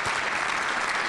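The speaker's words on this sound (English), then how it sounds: "So I just want to give you all a round of applause" Dense applause from guests at a community awards dinner, a steady wash of many hands clapping at once, filling the brief moment without talk.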